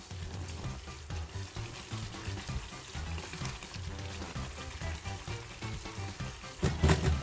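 Suji halwa cooks on a low flame in a pan, a soft bubbling sizzle with light stirring sounds, fairly quiet, with a louder clatter near the end.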